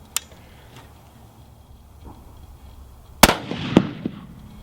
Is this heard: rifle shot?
yes